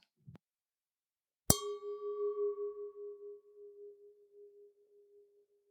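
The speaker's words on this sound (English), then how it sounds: "The second recording is a very good quality crystal glass made by Riedel." A Riedel crystal Bordeaux wine glass is struck once after a faint tap, ringing with a clear pure tone that sustains and slowly fades over several seconds with a gentle pulsing waver.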